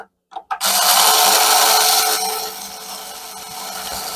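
A cheap hand drill winds a guitar string down the tuning peg: after a couple of brief clicks, a loud, steady high whir starts abruptly, holds for about a second and a half, then drops to a softer, continuing spin.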